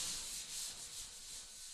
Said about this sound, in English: you can sand Fibafuse